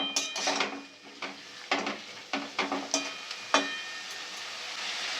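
Chilies and vegetables are stirred in a hot pan for a Bengali spinach dish, with spoon scrapes and clinks at an irregular beat over a steady close sizzle.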